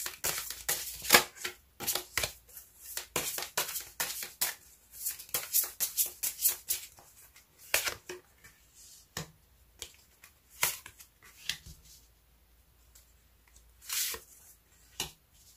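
Tarot cards shuffled and drawn, a steady run of crisp riffles, snaps and slapping flicks close by, busiest early on and thinning into scattered single card sounds toward the end.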